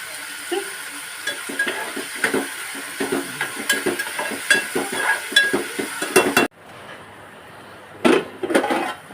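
Onion cooks in a pan with salt and coriander, giving a steady sizzle with frequent scraping stirs and utensil clatter; near the end the sizzle drops away before a few more knocks and scrapes.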